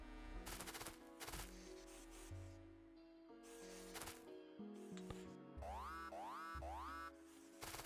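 Automated turrets firing in Factorio, rapid mechanical bursts repeating in clusters alongside sweeping electronic tones and game music, steady and moderately loud throughout.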